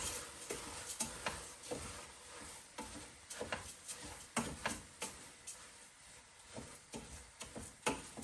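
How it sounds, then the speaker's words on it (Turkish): A spoon scrapes and knocks through bulgur toasting in a pot for a Turkish-style Egyptian bulgur pilaf, a quiet irregular series of clicks and scrapes with a faint sizzle beneath. "Karıştırmaya devam ediyoruz."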